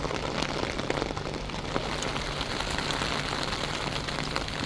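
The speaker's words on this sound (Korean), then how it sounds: "바닥에 물이 고일 정도로 비가 많이 내렸습니다." Heavy rain pours steadily on a mountain trekking trail in the Dolomites, a dense, even hiss of drops hitting the ground and puddles, close and constant throughout with no voices.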